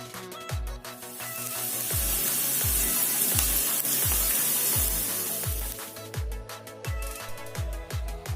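Chopped garlic and onion fry in a pan with panch phoron and dried red chili, giving a broad sizzling hiss that swells in the middle, over steady rhythmic low thumps.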